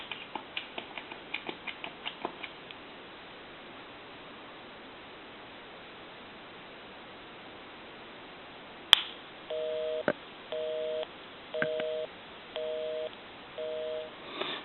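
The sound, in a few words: telephone dialing and busy signal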